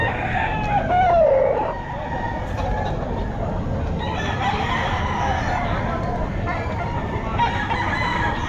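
A Boston Roundhead gamefowl rooster crows once near the start, clear over the busy murmur of a crowded pet market, with other birds and voices going on around it.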